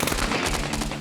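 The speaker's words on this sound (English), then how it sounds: "they were hit by a hail of bullets." Rapid automatic gunfire during an armed raid on a compound, a dense, loud burst of overlapping shots filling the whole second with no pauses.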